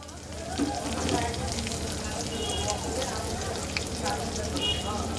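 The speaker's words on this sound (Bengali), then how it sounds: "এইবার পেঁয়াজটাকে সুন্দর করে ভেজে নেব" Steady, dense sizzling of chopped onions frying in hot oil left from frying fish, close and continuous with a faint crackle throughout.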